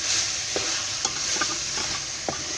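Radish pods (mongray) frying in spiced masala in a pan, a steady bright sizzle with several soft stirring scrapes and clicks spaced through it, close and alone without talk.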